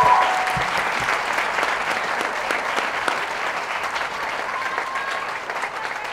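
An audience at a school sports awards evening in Bangkok gives a sustained round of applause for the sports prefects, a dense, even roar of many hands starting loud and easing slightly, with no voices over it.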